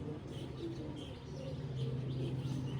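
Andhra pigeons kept at home coo softly and fairly close, with low repeated throaty coos and a few faint chirpy notes over a quiet background.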